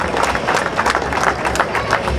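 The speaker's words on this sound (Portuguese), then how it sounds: "Um salva de palmas para o Tio Custódio, por favor." A crowd at the Festas do Barrete Verde in Alcochete applauds loudly and continuously, dense clapping filling the whole moment close by.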